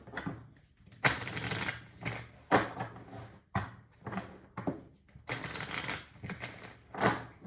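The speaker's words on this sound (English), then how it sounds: "Shuffling for Pisces." Tarot cards being shuffled by hand in repeated bursts of crisp riffling and flapping, with short pauses between each run, close and fairly quiet, no talking.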